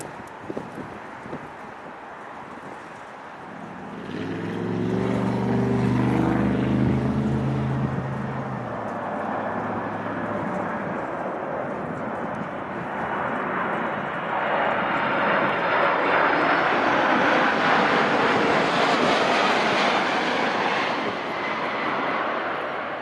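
A Kalitta Air Cargo Boeing 747 at Chicago O'Hare on a windy day, its heavy jet roar swelling from a distant whine to a loud, broad rush as it passes, then trailing off with a lingering rumble.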